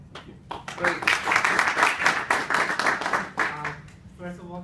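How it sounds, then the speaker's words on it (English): An audience breaks into dense, sustained clapping to welcome a speaker at a talk on LPWAN and IoT. The applause swells loudly, then fades as a voice begins speaking near the end. "I'd like you to give him a warm welcome of applause"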